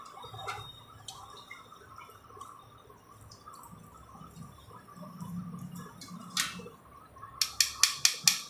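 Mixed vegetable juice strains through a sieve with a faint, soft trickle, then a quick string of five or six crisp drips at the end.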